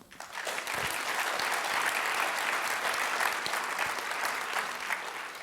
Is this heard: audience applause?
yes